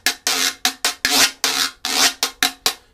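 Plastic guiro scraped in quick rhythmic strokes, each a loud rasping burst with a sharp start, about a dozen in quick succession, close and alone.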